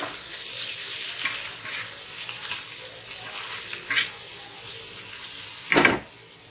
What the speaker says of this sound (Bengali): এখানে এই যে উচ্ছে আলু ভাজাটা চাপিয়ে দিয়েছি